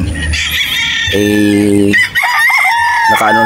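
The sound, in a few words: roosters crowing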